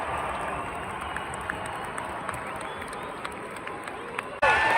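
A crowd at a Vancouver Canucks hockey game cheers in a low, steady roar from a distance, with scattered claps and shouts, and a brief louder change near the end.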